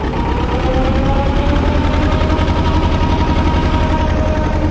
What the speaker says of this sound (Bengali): তো আমাদের নৌকা দেখো স্টার্ট হয়ে গেছে